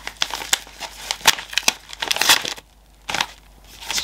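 Sticky paper envelope being torn and pulled open in a quick series of close crinkling rips and crackles, with short pauses between tugs.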